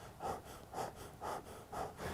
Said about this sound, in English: if you are hunched over and stressed out and you're breathing like this